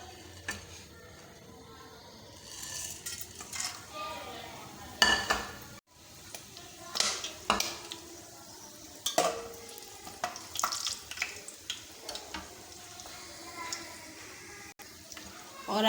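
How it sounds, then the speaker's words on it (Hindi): Whole spices dropped into hot oil in a pan: an ongoing sizzle and fry with stirring scrapes and utensil clinks against the pot, close up, with bursts of activity throughout. "तेल हमारा गरम हो चुका है। अब इसमें हम शामिल करेंगे जो खड़े मसाले हैं हमारे वो।"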